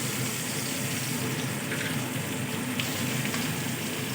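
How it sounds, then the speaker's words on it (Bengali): Chopped onions hit hot mustard oil in a wok, giving a loud, steady, hissing sizzle that runs unbroken throughout with no voices. "তেলটা গরম হয়ে গেছে এবার দিয়ে দিচ্ছি কেটে রাখা পেঁয়াজ"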